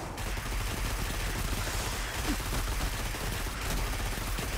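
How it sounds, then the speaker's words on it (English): Dense gunfire in Destiny 2, a continuous barrage of overlapping rapid shots and blasts that holds steady and loud throughout, with no speech over it. "This thing not as good as me just shooting them."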